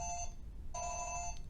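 A telephone rings in two electronic trilling bursts separated by a short pause, clear and fairly close.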